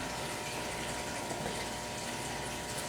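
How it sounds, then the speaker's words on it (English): Water pours steadily into a river-style aquarium tank, a loud continuous gushing and splashing rush that stays even and close throughout with no talking. "Alright, tank is filling up."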